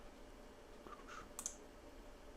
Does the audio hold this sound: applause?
no